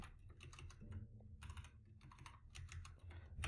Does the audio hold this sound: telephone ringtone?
no